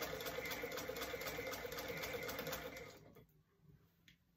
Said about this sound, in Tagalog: This sewing machine was made 1859.